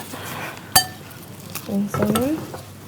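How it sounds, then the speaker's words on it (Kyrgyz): Salad with meat is tossed in a small dish, producing a sharp clink of utensil on the dish followed by soft rustling and scraping, with faint voices nearby. "Салатты аралаштырайын."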